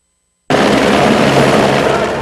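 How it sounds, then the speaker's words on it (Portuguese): After a brief silence, a loud, steady roar of rotor and engine noise kicks in and stays constant as a Military Police helicopter arrives overhead at a street protest in Rio de Janeiro, close and powerful. "Nesse momento chega o helicóptero da Polícia Militar para acompanhar aqui a manifestação"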